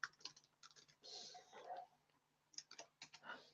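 Typing on a computer keyboard during an online masterclass, with bursts of quick key clicks and short pauses, close and quiet.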